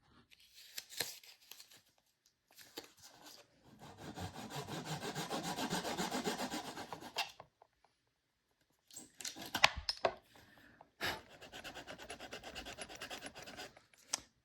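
Hand sawing wood plugs flush in rough back-and-forth strokes, followed by quicker scraping bursts of sanding, close up with short pauses between.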